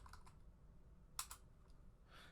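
A few quiet keystrokes on a computer keyboard while typing a terminal command, with one sharper click near the middle and a short cluster of taps at the end over low background hum.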